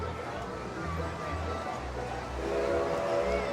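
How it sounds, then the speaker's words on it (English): A train whistle sounds faintly in the distance over outdoor crowd murmur at Knott's Berry Farm amusement park, with a low rumble of the train moving off. "There's the train. I think it just took off."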